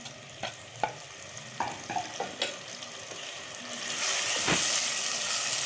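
Ginger garlic paste and green chili are stirred in a pan, giving a few scraping clinks of a spoon before a steady, faint sizzle rises and continues, with no voices.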